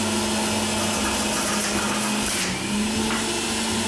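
A Breville Juice Fountain Elite juicer grinds carrots, giving a loud, steady motor whine with a harsh grinding roar that holds unbroken for a few seconds, close up with no talking.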